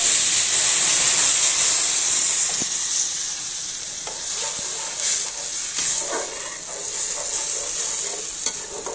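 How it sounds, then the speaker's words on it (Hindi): Milk poured onto browned, roasted semolina sizzles and hisses loudly in the pan, a steady steaming fry with light stirring scrapes throughout. "दूध डालते ही जो है ना उबाला सा आने लग गया"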